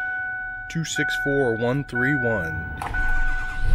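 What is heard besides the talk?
cold start of a 2008 Ford F350 6.4 Powerstroke diesel truck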